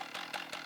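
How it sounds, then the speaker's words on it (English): A chainsaw cutting back invasive plants in a national park runs in short, rhythmic bursts of buzzing, fairly faint and steady. "A really important tool that we have in this battle is the chainsaw."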